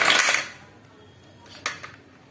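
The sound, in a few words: chopped vegetables being put onto a plate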